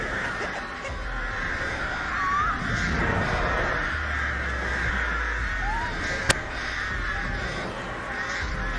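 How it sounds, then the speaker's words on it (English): Crows caw in the horror video game Dead by Daylight, with a couple of distinct harsh calls over a steady ambient game background and one sharp click. "Evil crows."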